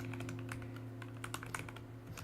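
Close, quiet typing on a computer keyboard, irregular clusters of light key clicks over a steady electrical hum, with no one speaking.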